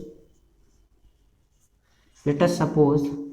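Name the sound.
writing on a board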